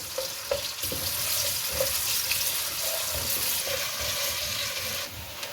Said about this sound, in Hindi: अब प्याज को हल्का सा ही फ्राई करें